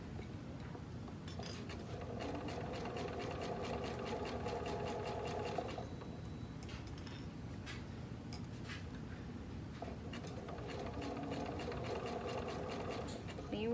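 A sewing machine stitches along the edge of a knit binding strap, running in steady rapid bursts with brief pauses between, close and clear, with faint talk in the background.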